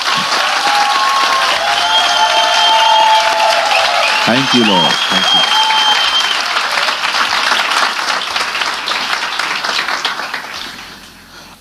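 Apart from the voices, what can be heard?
congregation clapping for Jesus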